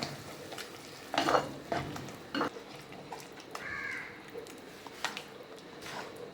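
Egg masala with coriander being stirred and cooked in a pan: a spatula scrapes and clinks against the pan in a few distinct bursts over a soft, steady sizzle, close by and with no talking.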